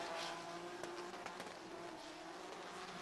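BMW E90 drift car at a drift championship in Oman, engine roaring steadily at high revs with tire squeal mixed in, loud and continuous throughout without any talk.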